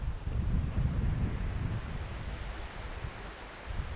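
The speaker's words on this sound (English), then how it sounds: "It's a bit breezy today." Breezy outdoor wind gusting against the microphone beside a parked 2014 Volkswagen Caddy 1.6 TDI van, a loud continuous low rumble and buffeting that swells and eases slightly without any voices.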